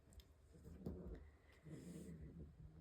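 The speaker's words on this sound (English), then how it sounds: "Apparently the cats need to fight right now." Cats fighting indoors, with low growls and yowls rising and falling in quiet, faint bursts, no talk over them.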